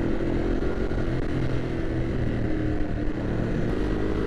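A Ducati Hypermotard 950 RVE motorcycle being ridden, its engine a steady, loud, unbroken drone with a dense low rumble and wind noise, held at constant pace with no voices.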